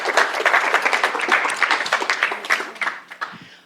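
Round of applause from a bootcamp audience after a venture showcase presentation, a modest group clapping in uneven bursts that thin out and fade over a few seconds.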